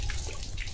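Tap water runs and splashes steadily close by in a yard where a German Shepherd is being played with, giving a continuous watery hiss with small drips.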